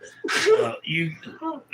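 A close, sudden sneeze bursts out sharply, followed immediately by a person speaking.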